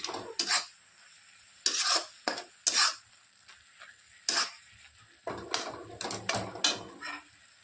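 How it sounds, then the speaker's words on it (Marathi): A spoon scrapes and stirs fenugreek leaf curry with crushed peanuts in a pan, in short separate rasping strokes, close and moderately loud, with faint sizzling between them. "त्यात टाकत आहे मी एक चमच एक दीड चमच शेंगदाण्याचा कूट त्याला छानसं मिक्स करून घ्यायचं आपल्याला"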